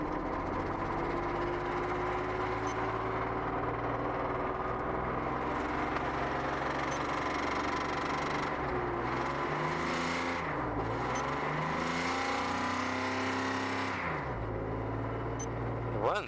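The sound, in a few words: classic Mercedes V12 car engine running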